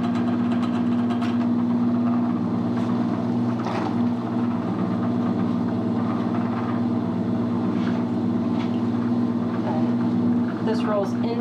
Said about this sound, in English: Now I'm going to flip this lever to start the rollers.